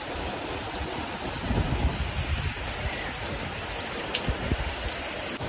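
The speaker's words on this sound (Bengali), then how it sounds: "বাইরে পুরো মুষলধারে বৃষ্টি পড়ছে আর সেরকম হাওয়া দিচ্ছে" Heavy monsoon downpour driven by wind, with water pooling on a balcony, a dense, steady hiss of rain close by that swells slightly in the middle, with no voices.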